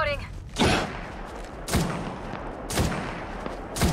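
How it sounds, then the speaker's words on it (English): Gunfire in the video game Apex Legends on the Kings Canyon map: sharp, separate shots roughly once a second, each a bright broadband crack over a quieter game background. "They're shooting at me."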